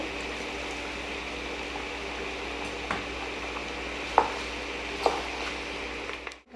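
Chicken curry with potatoes and tomatoes simmers in a pan, a soft even bubbling hiss with a few sharp utensil taps late on before it cuts off.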